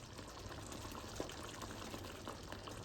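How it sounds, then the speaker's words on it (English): A creamy sauce with smoky sausage for penne simmers in a pan, giving a steady, soft bubbling hiss with faint pops throughout and no voices. "So we're going to let this simmer for a few minutes"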